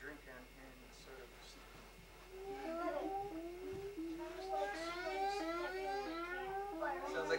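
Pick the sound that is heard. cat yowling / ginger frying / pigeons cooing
cat yowling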